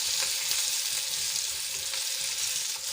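Kathiyawadi stuffed green chillies fry in hot oil in a pan, a steady close sizzle running throughout with faint scraping as they are turned, no voices.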